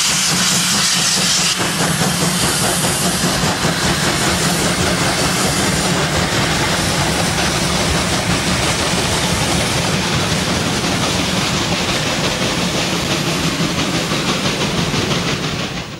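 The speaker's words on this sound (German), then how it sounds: "Abendliche Ausfahrt eines Eilzugs aus Lichtenfels nach Hof mit zwei Maschinen der Baureihe" Two DB class 001 steam locomotives pull an express train out of Lichtenfels toward Hof in the evening, producing a loud, continuous rush of steam hiss and heavy rolling rumble that holds steady throughout, with no voices.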